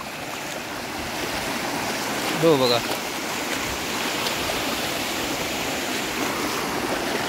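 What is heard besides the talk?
strong floodwater rushing from overflowing lake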